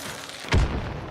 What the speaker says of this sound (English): Bomblance!